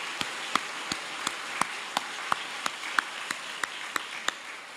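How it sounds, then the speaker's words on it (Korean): Church congregation clapping in thanks and encouragement during a worship service, heard as faint, evenly spaced single claps in a steady rhythm, about three per second, over a quiet room. "한번 우리가 고마움 표하면서 격려의 박수 했으면 좋겠습니다"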